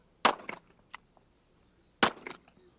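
Rifle shots at a firearms training range for early Special Forces troops: two sharp reports spaced about two seconds apart, each followed by a brief echoing tail, with a faint click between them.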